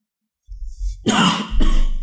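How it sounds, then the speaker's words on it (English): A single close throat-clearing cough, harsh and abrupt, followed by a rougher second burst. "I kind of coughed for a sec"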